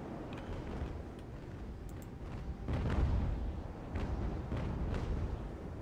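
Naval cannon fire from sailing warships in the Ultimate Admiral: Age of Sail battle at Valcour Island, heard as dense, rolling distant booms in a continuous rumble, with a heavier volley near the middle.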